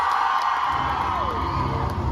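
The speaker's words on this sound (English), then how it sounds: "please keep the applause going for Paul and Ian" Convention crowd in Belfast applauding and cheering for Ian Somerhalder and Paul Wesley at a ComicCon Q&A, a loud, dense, sustained roar of clapping and whoops filling the hall without a break.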